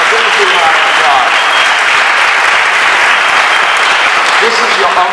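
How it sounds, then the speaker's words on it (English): A crowd applauds warmly at a public event honouring fashion designer Halston's relative, steady dense clapping filling the whole stretch without pause. "Give him a big round of applause."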